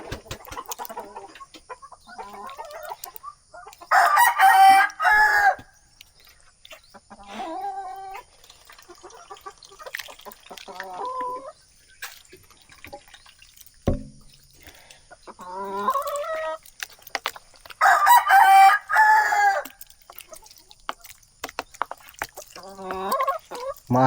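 A heritage rooster crows twice in loud, harmonically rich bursts on a farm, amid scattered clucks and other fowl calls at varying distances.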